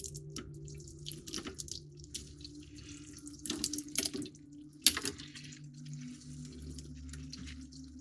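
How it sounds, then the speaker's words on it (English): Water from a running tap splashes as a small plastic part from a 1:48 scale Panavia Tornado model kit is rinsed, with an uneven gurgling flow, a few louder splashes midway and a low steady hum beneath. "Give it a rinse."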